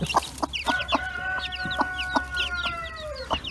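A hen clucks repeatedly near her newly accepted chicks, with short rhythmic clucks close by and a thin, sustained peeping call threading through the middle of the clip.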